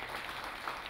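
A crowd claps briefly and steadily at the official opening of the Vodafone Fiji Fest 2015, giving a dense wash of applause at moderate loudness.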